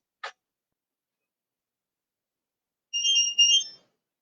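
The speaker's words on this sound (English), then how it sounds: "timer went off for the edamame" Kitchen timer sounding while edamame cooks for a summer vegetable pasta bowl, a short click followed by two quick high electronic beeps after a silence, heard alone.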